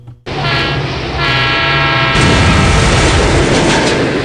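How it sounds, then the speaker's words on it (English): A train passes a level crossing, its horn blasting loud and sustained from an abrupt start over a heavy rolling rumble of rail cars that swells louder partway through. "Trains can easily be heard for miles."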